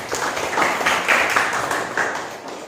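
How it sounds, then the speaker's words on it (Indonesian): An audience in a classroom teaching session claps briefly for a student, a short scattered round of hand claps in bursts at moderate loudness, with no talking over it. "Tepuk tangan buat Amel."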